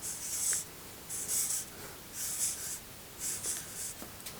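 Pencil lead scratching across paper while a simple flower is drawn, a circle ringed by petals; short bursts of soft, close strokes recur every second or so with quiet pauses between.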